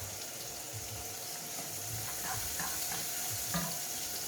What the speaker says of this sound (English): We're gonna add our red onion next. Same again, just like a minute or two. Sweat it off again.